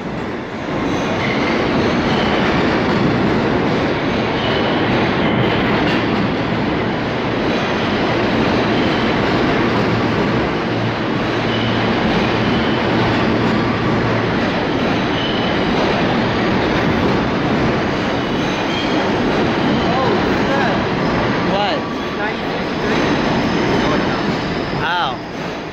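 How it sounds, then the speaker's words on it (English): A Q train rolls past with a loud, continuous rumble and rattle of wheels that holds steady from start to finish, with no talking over it. "Regular Q train with the set."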